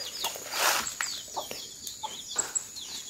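Farmyard chickens clucking softly in a few short, scattered calls, moderately close, with a faint high background hum.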